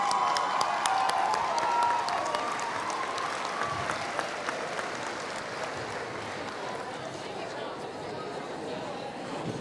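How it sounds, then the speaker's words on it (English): An audience at a middle school bridge-to-high-school event applauds for a student pin designer, crisp individual claps rising over crowd chatter and murmuring, starting strong and gradually tapering off. "let's give her a round of applause"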